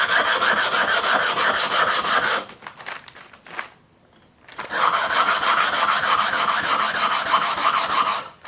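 A 6-inch glass telescope mirror is ground by hand with 80 grit, producing a rhythmic gritty scraping of back-and-forth strokes, close and steady, with a short pause midway.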